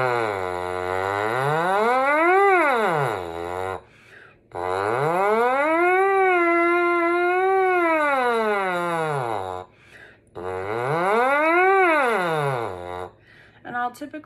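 Buzzing lip tones on a French horn mouthpiece slide up and down in three long sweeping phrases, rising to a peak and falling back, with short pauses between each.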